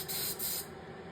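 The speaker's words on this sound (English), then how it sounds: "This airbrush has a little smaller needle. It is having a little bit of issue spraying that" An airbrush with a small needle, around 0.2, sprays paint in a few close, hissing bursts that cut off into a quieter hiss.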